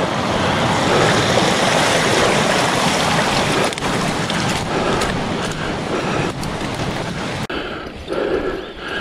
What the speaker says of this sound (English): Oh, there's a really nice waterfall there.